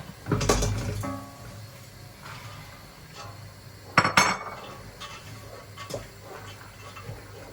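Dried beans are tipped into a metal cooking pot with a clattering rush, then scattered clinks and knocks of utensils against the pot follow, with a second louder rattle midway, close and fairly quiet.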